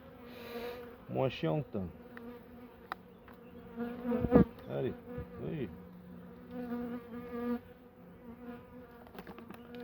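Honeybees buzz steadily around a hive through the clip, a droning hum with someone talking briefly in French over it, near and clear.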